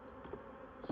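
Honeybees buzzing around a hive freshly given a Saskatraz queen, a steady close-up drone of many wings with one brief louder bump at the end.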